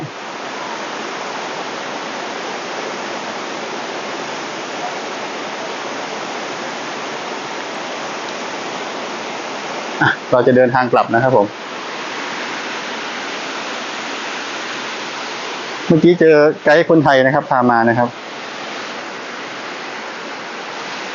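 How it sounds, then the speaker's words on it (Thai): Pha Kluai Mai waterfall in Khao Yai roars as a steady, loud wash of falling water, with someone talking twice briefly over it. "อันนี้นะครับ น้ำตกผากล้วยไม้"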